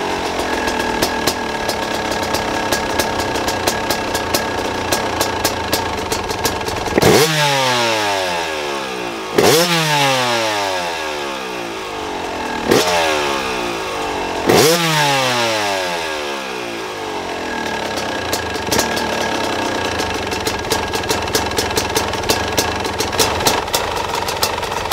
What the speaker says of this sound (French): Bon là pour le moment j'ai juste fait un réglage de ralenti là sur la moto.